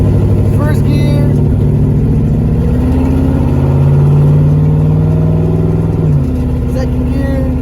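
A car fitted with a COMPUSHIFT Sport controller and D9 paddle shifter revs up through the gears, its loud close engine drone rising in pitch and dropping at each shift.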